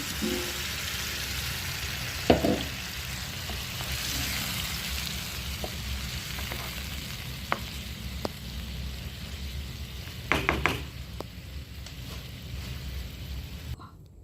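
Potato curry with ground tomato sizzles steadily in a pan as water is poured in, a continuous close frying hiss with a few sharp clinks and splutters scattered through.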